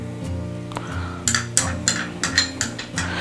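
Sliced garlic being stirred into curd, a quick run of close, bright spoon clinks against a bowl, regular and moderately loud after a brief quiet start.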